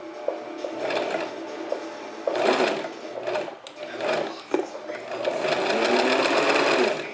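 A sewing machine stitches in quick mechanical bursts, running in stretches with short pauses and a couple of sharp clicks, close and clear while a person talks intermittently over it.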